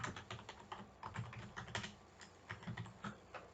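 Typing on a computer keyboard while laying out text in Illustrator, a close, quiet run of crisp key clicks in uneven bursts with brief pauses between words.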